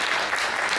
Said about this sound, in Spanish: yo les doy un aplauso por estar acá